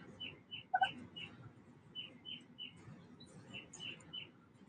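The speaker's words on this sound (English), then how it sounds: "The birds in the background singing," Several small birds chirp and sing in short repeated phrases, faint and steady behind low room hiss, heard from inside a basement in early spring.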